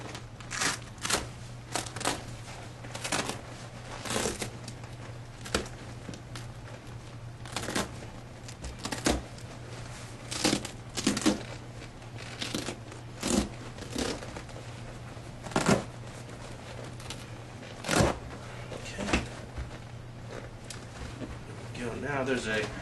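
A Velcro-attached seat cover is slowly peeled off a foam cushion on a 1995-99 Chevy seat, giving a string of short, close ripping and crackling bursts at irregular intervals over a steady low hum.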